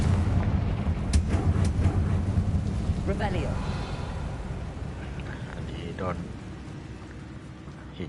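Confringo spell blast and crumbling rockfall in Hogwarts Legacy: a dense rumbling wash with sharp cracks near the start, fading over several seconds, with a voice talking over it.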